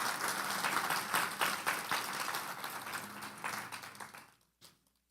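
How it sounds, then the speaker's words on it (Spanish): Church congregation giving sustained loud applause at a Christian sermon, a dense wash of clapping lasting several seconds before tapering off, with a final brief burst of claps. "Dele un fuerte aplauso al Señor."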